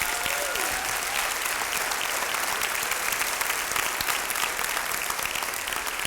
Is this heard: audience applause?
yes